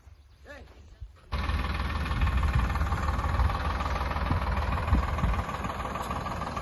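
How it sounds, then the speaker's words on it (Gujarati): A tractor engine digging pits for a small forest plantation starts up after a quiet moment and then idles loud and steady, with a thick low chugging throb that continues to the end. "અહીંયા ખાડા ખોદવા માટે આ ટ્રેક્ટર છે"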